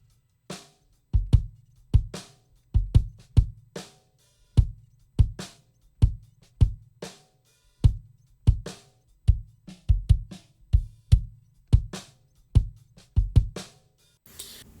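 A kick drum is captured with both a Sennheiser microphone and a speaker used as a microphone. Deep, punchy single thumps arrive in a loose repeating pattern, up close, with short decays and silence between the hits.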